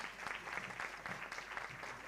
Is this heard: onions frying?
no